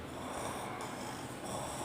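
A voice imitates snoring, giving a short, rough, nasal snorting breath that sounds close and fairly quiet.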